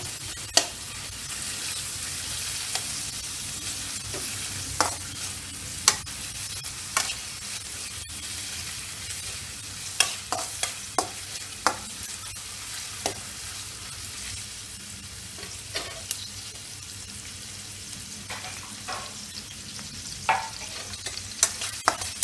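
Onion sautéing in a pan produces a steady sizzle with frequent sharp clicks and scrapes as it is stirred, close and continuous with no one speaking.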